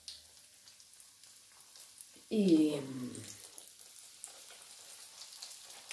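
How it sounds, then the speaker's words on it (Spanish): Floured meat fillets drop into hot oil in a home kitchen pan, bursting into a loud sizzle that quickly settles into a softer, steady frying hiss, with someone talking faintly before and after. "los frío enharinados"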